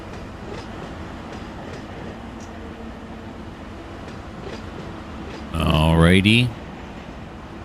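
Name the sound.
train running in Run 8 Train Simulator III video game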